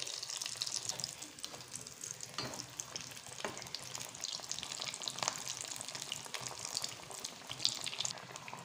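Bread slices with a potato filling, coated in breadcrumbs, frying in hot oil over high flame, giving a dense continuous sizzle and crackle from start to finish with no voices.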